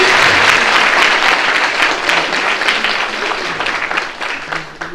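An audience at a free cataract surgery camp in Vrindavan applauds to welcome the doctors; dense, loud clapping fills the space, then gradually thins and fades.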